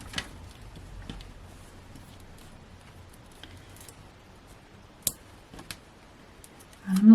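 Scissors snip through pieces of card for cardmaking, a few quiet, sparse clicks and cuts close by over a soft background, with a louder rustle at the very end.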